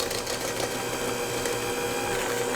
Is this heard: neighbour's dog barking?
no